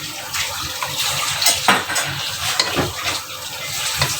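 A spoon scrapes and knocks steadily around a non-stick pan as a milk peda mixture is stirred, giving close, irregular clinks and soft scraping with no voices.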